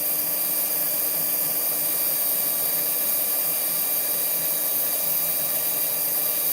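A power drill runs steadily with drill bits, a continuous whining hum holding an even pitch throughout with no pauses, close and fairly loud.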